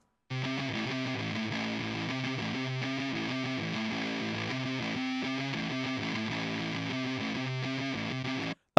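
An electric guitar runs through a Marshall JMP amp with the gain turned to 10, producing a continuous distorted riff at an even, loud level for about eight seconds, with no talk.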